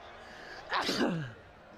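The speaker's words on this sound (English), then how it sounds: "Gotta sneeze." A single sharp sneeze bursts out, close and fairly loud, against a quiet background.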